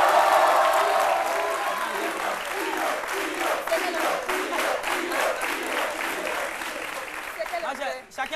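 Studio audience on a French midday talk show bursting into sustained applause and acclamation, dense steady clapping that fills the room for several seconds before tapering off, with some voices mixed in.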